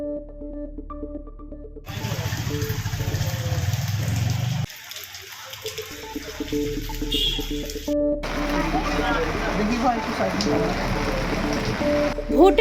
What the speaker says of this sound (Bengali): অবশেষে স্বস্তির বৃষ্টি নামলো ভরতপুর বিধানসভা সালারে